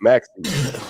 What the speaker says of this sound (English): No, I coughed.